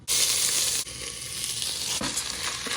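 Soaked basmati rice hits hot fat with whole spices, cinnamon, cardamom and cloves, for mutton biriyani, bursting into a loud close sizzle that settles into steady frying with faint stirring scrapes, no voices.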